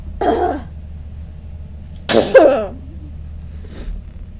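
Three harsh, hacking coughs sound close by, spaced apart, the middle one a heavy double burst and the last one quieter.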